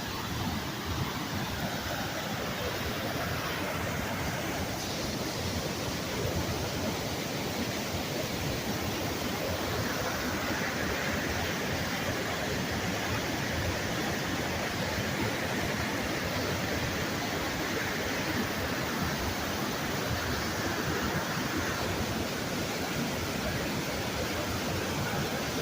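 Hunters Creek waterfall rages with snowmelt, a loud, unbroken roar of rushing water that holds steady and close for the whole stretch with no voices.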